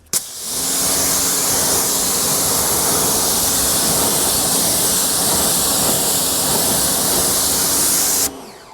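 A pressure-washer water spray rinses a car's wheel area, a loud continuous hiss that starts abruptly, holds steady for about eight seconds with a faint whine beneath, then cuts off.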